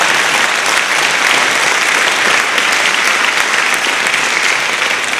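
Loud, dense applause from a concert audience at a school spring band concert, sustained steadily throughout with no pauses and no voices standing out.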